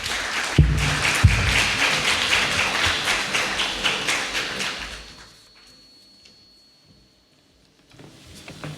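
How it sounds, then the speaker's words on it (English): An audience at a university forum applauds the university president with dense, loud clapping and a couple of thuds, which fades out around the midpoint into near silence before a faint rustle returns. "Please give a big round of applause."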